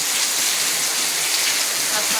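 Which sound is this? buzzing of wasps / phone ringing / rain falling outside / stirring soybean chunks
rain falling outside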